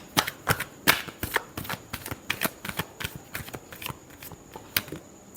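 Tarot cards being shuffled by hand, a brisk run of crisp papery riffles and slaps in an uneven rhythm, close and fairly quiet, with no voices.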